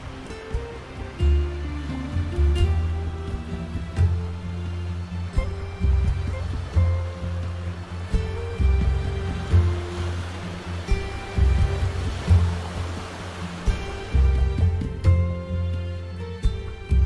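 Ocean waves from the Indian Ocean wash onto the Bali seashore in repeated surges, a steady roar of surf with no voices, swelling and easing every second or two.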